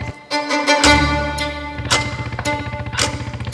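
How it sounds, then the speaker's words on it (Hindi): A cruiser motorcycle engine rumbling with a deep, throbbing idle and pulsing revs, fairly close and unbroken by voices. "ये पीछे किसी मोटरसाइकिल की आवाज है।"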